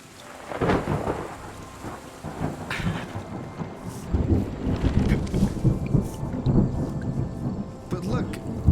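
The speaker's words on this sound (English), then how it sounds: "it's raining again, so everything turns green" Rain falls in the video game Terra Nil, a soft steady patter with rumbling thunder-like swells rising and fading across the scene, moderately loud with occasional brighter drops and faint background tones.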